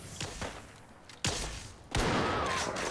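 Gunfire bursts against feral ghouls in Fallout 4, a few sharp shots early followed by two louder blasts with lingering rumble.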